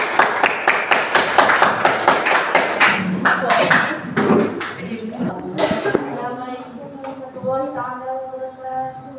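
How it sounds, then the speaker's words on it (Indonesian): A classroom group receives clapping as it comes forward during a school anti-bullying presentation: quick sharp claps at the start that thin out, followed by speech taking over near the end. "Ya, tepuk tangan untuk kelompok 3."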